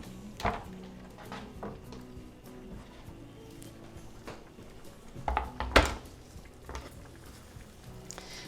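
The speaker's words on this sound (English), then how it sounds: "Grab some parsley. A nice little handful. We're gonna chop that." A knife chops a small handful of fresh parsley on a board in a home kitchen, giving sparse, quiet knocks and a few sharper thuds at irregular intervals against faint background noise.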